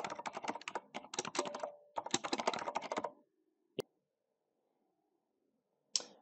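Fast bursts of keystrokes on a computer keyboard enter a password, close and clear, in two quick runs followed by a pause and a couple of isolated clicks.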